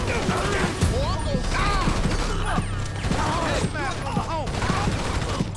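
Rapid bursts of gunfire crackle through a GTA V shootout on Grove Street, repeated cracks and impacts layered with mechanical clatter and chirping effects, loud and continuous across the scene.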